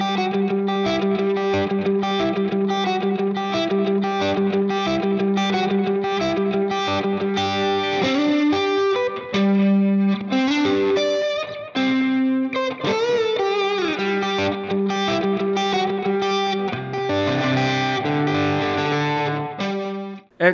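Distorted electric guitar through a Marshall-style amp plays a fast melodic lead with sustained notes and quick runs, loud and continuous for about twenty seconds with no voices.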